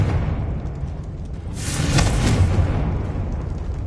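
A Confringo fire spell explodes in Hogwarts Legacy, a single swelling whooshing burst that rises and fades over a low rumbling bed, with no talk over it.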